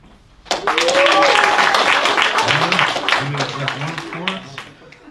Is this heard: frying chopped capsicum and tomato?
no